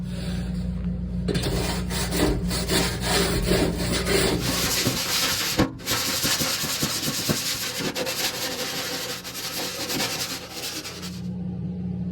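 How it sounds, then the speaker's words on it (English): A rag is rubbed along a door slot on a 1973-1979 Ford pickup, giving a close, steady scrubbing and rubbing with strokes that run almost without pause and one brief gap. "take a rag and wipe that slot down"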